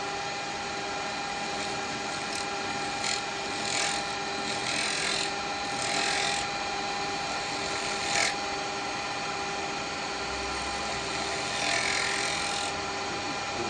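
Wood lathe spinning yew at 2,500 RPM, a steady whirring hum with a high tonal whine and intermittent scraping touches of a tool against the wood.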